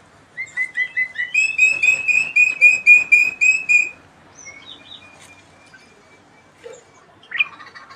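White starlings in an aviary give a run of bright, clear whistled chirps in quick succession, loud and close for about four seconds, then fall to a few faint scattered calls.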